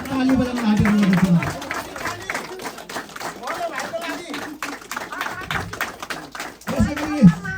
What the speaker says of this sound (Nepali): यसमा पनि ताली बजाउन हार्दिक गर्दछु